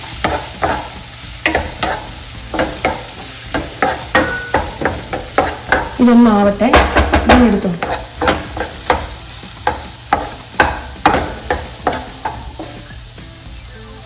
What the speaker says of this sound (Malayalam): അപ്പം നമ്മുടെ ഏത്തയ്ക്ക ഒന്ന് വഴണ്ടിട്ടുണ്ട് കേട്ടോ നെയ്യിൽ